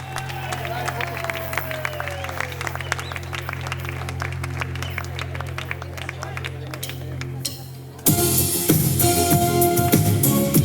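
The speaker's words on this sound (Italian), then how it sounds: "iniziamo questa bella e grande serata, grande concerto in questa magnifica piazza con il vostro grande applauso" A crowd at an evening concert in a large square in Jesolo claps and cheers steadily, with someone speaking over the applause through the PA, before music bursts in loudly near the end.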